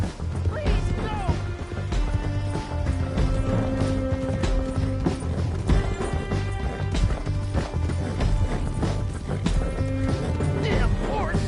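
A horse in Red Dead Redemption 2 gallops and whinnies amid crashing, thudding action, with rhythmic hoofbeats, loud impacts and agitated game voices layered over the chaos.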